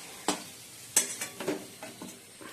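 Onion goes into a pan with already fried potatoes on a home stove, a soft sizzle broken by several sharp stirring scrapes and clinks, fairly quiet with no talking.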